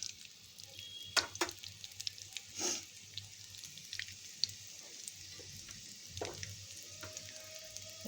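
Cumin seeds crackle in a little hot oil in a kadhai, giving sparse, sharp pops and ticks over a quiet, faint sizzle.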